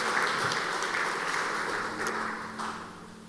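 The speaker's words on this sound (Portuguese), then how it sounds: "você pode aplaudir mais uma vez, reagindo a isso" A church congregation claps together in a steady, rustling wash of applause that gradually fades toward the end.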